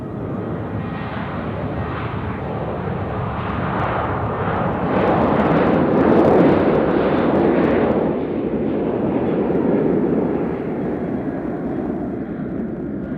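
An Amazon Air cargo jet departs Nashville International Airport, a steady broadband engine roar that builds slowly and peaks mid-takeoff, then holds loud and sustained to the end with no talk.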